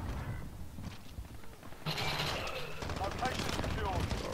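Rapid automatic fire from an AK-74u in Call of Duty: Modern Warfare multiplayer, a dense sustained burst that becomes louder and more continuous partway through, with game effects mixed in.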